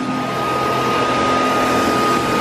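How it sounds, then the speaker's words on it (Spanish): A household vacuum cleaner runs continuously, giving a loud, steady, close whooshing drone with a constant motor whine and no pauses. "Esta aspiradora, la verdad que es una maravilla."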